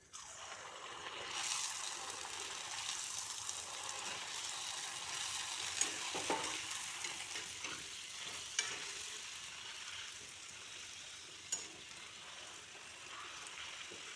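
Fuchka puris fry in hot oil, a faint, steady, rain-like bubbling sizzle lasting throughout with a few small pops and clicks and no voices.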